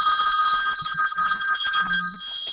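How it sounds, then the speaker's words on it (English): A telephone rings with a steady, loud electronic trill that carries through the whole short stretch, with no voices over it. "You got a phone call, Foos."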